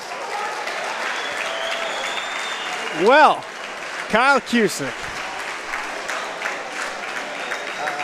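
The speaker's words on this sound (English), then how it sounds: "Folks, how about a round of applause for both fighters?" An audience at a boxing match applauds both fighters after the bout, a continuous wash of clapping from a large crowd, while an announcer's voice talks over it briefly.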